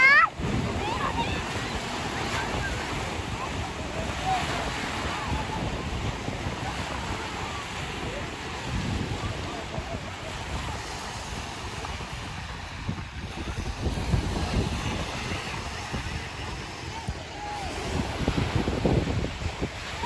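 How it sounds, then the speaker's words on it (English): Ocean waves surge and break continuously on a beach, a steady broad wash with wind buffeting the microphone, and people talk nearby over the surf. "We're at the beach, and there's a lot of waves"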